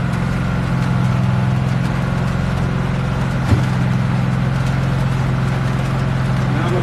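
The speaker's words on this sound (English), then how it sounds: "Now I'm gonna turn off my generator." A portable generator runs steadily at a roadside tire change on a rainy night, a constant close mechanical drone with a low hum that does not change, and a single brief knock about halfway through.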